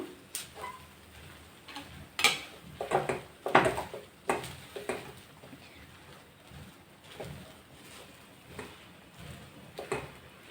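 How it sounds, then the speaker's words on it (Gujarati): A spoon stirring lapsi, a wheat dessert, in a pot over low heat, producing scattered scraping knocks and soft clinks against the pot in an irregular rhythm, close and fairly quiet. "તો હવે તમે પ્રોપર આને હલાવી લેવાનું સરસ મજાનું."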